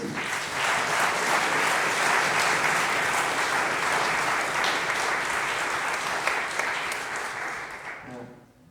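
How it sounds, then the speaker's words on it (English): A concert audience applauds a youth orchestra after a performance of Night on Bald Mountain, with full, sustained clapping that holds steady before tapering off at the end. "can you give these guys a round of applause?"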